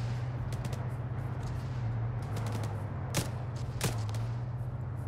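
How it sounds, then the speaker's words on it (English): Mortar fire in Arma 3, a few sharp distant cracks and thumps striking over a steady low engine-like drone, with two louder impacts late in the stretch and no talk. "Oh, is that our mortars? Are those our mortars?"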